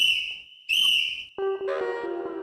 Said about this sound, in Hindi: ये सिटी है, सिटी, जादुई सिटी